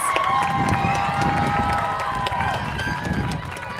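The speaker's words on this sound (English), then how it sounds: "Give them a round of applause." A large graduation-ceremony audience at a high school claps and cheers, a dense wash of applause with scattered whoops that fades slightly, heard from amid the crowd with wind rumble on the microphone.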